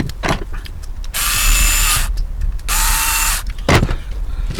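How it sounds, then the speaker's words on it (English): Nuts being tightened onto bolts during a radio-controlled model build: two sustained, close, loud mechanical whirring bursts with short sharp clicks and knocks between them, and no talking. "put the nuts on them"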